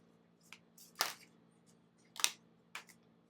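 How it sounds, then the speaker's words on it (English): A deck of cards being shuffled by hand during a tarot-style reading, heard as a few separate quick riffling bursts with quiet pauses between them, close and soft. "just keep going with shuffling the cards"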